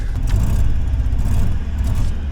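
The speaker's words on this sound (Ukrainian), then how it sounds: "Форд завівся, зараз буде перший тест-драйв" A Ford Sierra car running on its first test drive, a loud steady low engine drone heard from inside, continuous throughout with slight variation and no talking.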